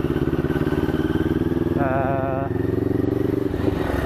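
A Kawasaki NK400 motorcycle idles through a newly fitted muffler, giving a close, steady pulsing exhaust putter with a brief warbling tone partway through.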